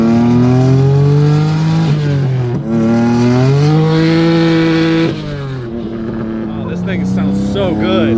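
Honda Civic hatchback with a swapped 3.2-litre J32 turbocharged V6 accelerating hard, loud and close, its engine note rising through the revs with a brief shift dip and a hint of tire squeal, with voices talking over it.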